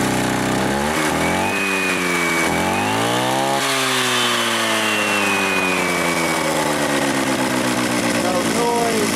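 Demolition saw with freshly replaced bearings starting up and running, its two-stroke engine roaring loud and close, revving up and down in sweeping pitch before settling into a steady high whine.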